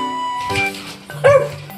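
A pug gives a few deep, low barks and yips near at hand, with a whimpering tone between them and no talk over them.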